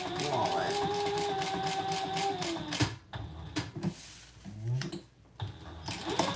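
A sewing machine stitches along the sides of a wallet piece in a steady mechanical whir, then stops and restarts in short bursts, with someone talking over it.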